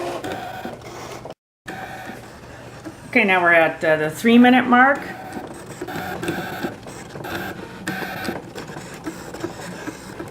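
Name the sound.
ScanNCut DX cutting machine running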